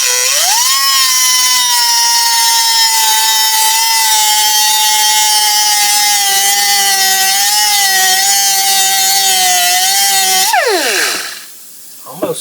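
A power tool grinds through an aluminum Jeep Cherokee bracket with a loud, sustained high-pitched whine that holds steady for about ten seconds, then winds down abruptly and falls quiet.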